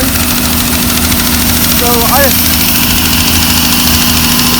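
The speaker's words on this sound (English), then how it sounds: "That's a Radial airplane motor right there." A radial airplane engine runs at a rural engine show among hit-and-miss and marine engine displays, a loud steady idling drone with a throbbing knock, while a brief voice and a short chirp sound over it.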